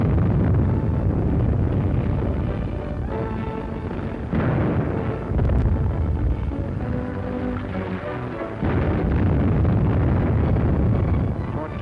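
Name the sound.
artillery bombardment of a city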